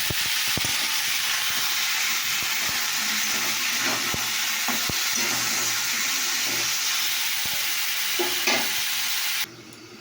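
A spatula stirs food in a hot pan with turmeric added, giving a steady loud sizzle throughout with scattered soft scraping taps, then the sound cuts off abruptly near the end.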